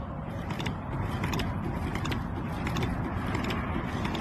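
A soft, rapid mechanical clatter runs steadily throughout, the quiet rhythmic ticking of a sewing machine stitching up close with no voices.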